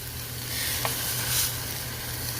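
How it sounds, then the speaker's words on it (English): Pork chops sizzle in hot oil in a pan, a steady close hissing fry with a low hum underneath and no voices. "Hear that sizzle?"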